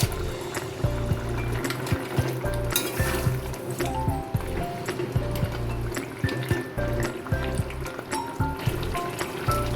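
Fried lentil dumplings (bori) tumble into a pot of simmering vegetable drumstick-stalk curry, a close, wet bubbling and splashing with scattered soft knocks and clinks throughout.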